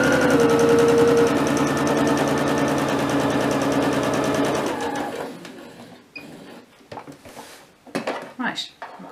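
A sewing machine stitches a quarter-inch seam in a rapid, steady mechanical whir that lasts several seconds and then stops, followed by handling clatter and a voice speaking nearby.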